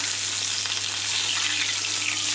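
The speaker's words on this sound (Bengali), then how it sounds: "দেখো মাছটা বেশ লাল লাল করে একটু ভাজলে" Fish sizzles steadily in hot oil in a home kitchen, a dense, even crackle with no talk over it.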